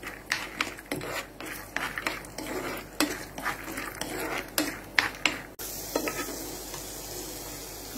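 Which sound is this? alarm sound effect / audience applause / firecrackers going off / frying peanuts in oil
frying peanuts in oil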